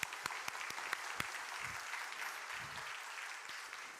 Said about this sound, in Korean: 여러분 박수 한번 부탁합니다